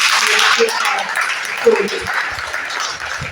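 An audience claps loudly and steadily through the whole moment during a Sunday class, with a voice speaking over the applause.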